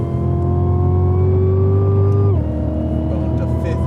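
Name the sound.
race car engine shifting up to fifth gear on track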